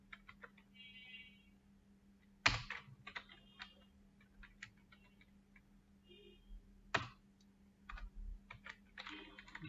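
Faint, scattered keystrokes tap on a computer keyboard during a keyword-search session, irregular clicks at low level with a couple of sharper knocks and a soft steady hum beneath.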